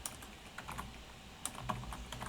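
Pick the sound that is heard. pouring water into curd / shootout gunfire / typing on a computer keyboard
typing on a computer keyboard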